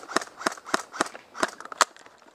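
Airsoft guns fire during an outdoor airsoft game as six or seven sharp, distinct pops spaced roughly a third of a second apart, moderately close and fairly quiet, with no talk over them.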